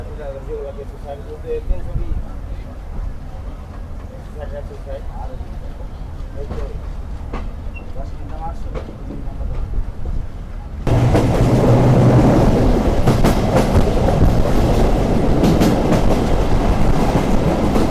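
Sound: Aparajita commuter train departing Rohanpur railway station

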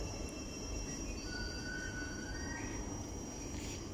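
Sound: Thameslink passenger train passing

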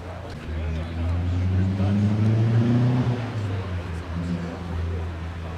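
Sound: rotary engine car running at Japanese car show

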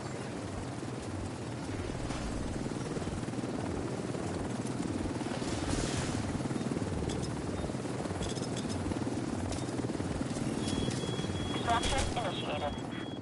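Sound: extraction helicopter arriving in Division 2 video game

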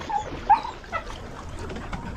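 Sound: dog barking and whimpering

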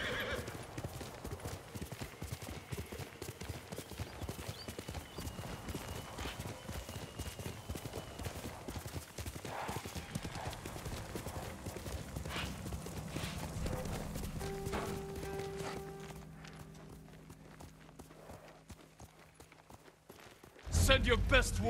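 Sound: horse galloping hooves in video game Ghost of Tsushima

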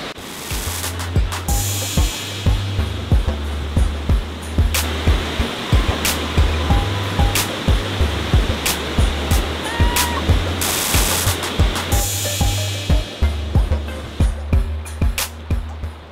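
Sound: waterfall and rushing snowmelt water, Silver Falls Oregon

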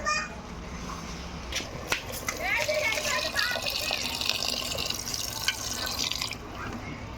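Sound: water poured into curry pot

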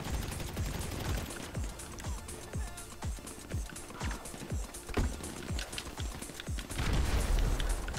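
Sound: gunfire in GTA V Online video game

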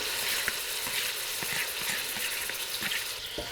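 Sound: eggplant frying in melted butter

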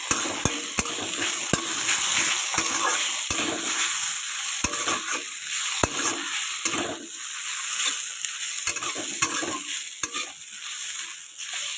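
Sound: potatoes frying in oil in a wok for aloo paratha

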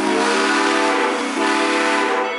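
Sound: train whistle two toots

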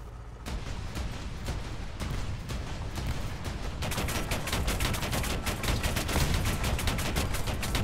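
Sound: tank guns firing in the video game War Thunder

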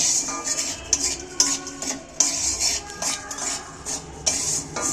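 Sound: salt being dry-roasted and stirred in a pan

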